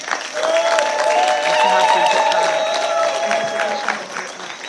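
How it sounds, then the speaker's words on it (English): Audience at a conference closing plenary applauding, a steady dense wash of clapping from a large crowd, fairly loud and sustained throughout with no talk over it. "please join me in thanking them with the loudest round of applause."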